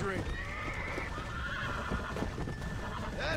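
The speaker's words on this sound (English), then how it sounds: "We got the flaming horse." In Red Dead Redemption: Undead Nightmare, a flaming horse whinnies loudly over clip-clopping hooves, with a final neigh near the end.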